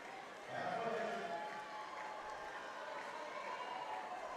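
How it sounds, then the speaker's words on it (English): A crowd cheers for a swimmer at a 5A state swim final, a steady indoor roar of many voices echoing around the pool area, continuous and moderately distant, with a voice talking over it. "You can hear the crowd getting into the Lily"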